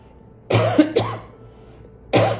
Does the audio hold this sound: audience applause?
no